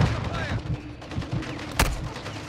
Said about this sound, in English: That's why we're getting shot at.